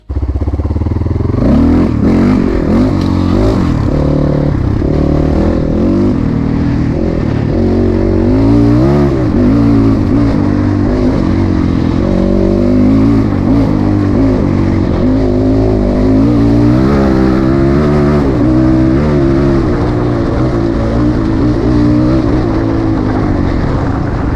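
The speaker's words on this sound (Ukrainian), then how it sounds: "Приклад роботи мотоцикла в мене також є, тому спостерігаємо" A Kovi Max 300 motorcycle engine runs loud and close, with a throbbing idle broken by repeated revs that rise and fall throughout, and no talking.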